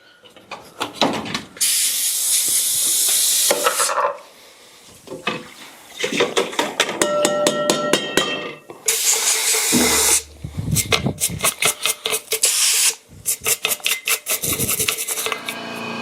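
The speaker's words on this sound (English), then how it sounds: "We're just gonna start spraying and see what we can do to get this perfect." Bursts of loud hissing spray from a spray gun applying finish to furniture, several long passes alternating with short rapid sputtering pulses, close and dominant with no talk.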